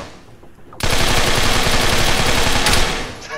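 A long rapid burst of automatic gunfire in ArmA III begins abruptly and rattles loudly for about two seconds before stopping.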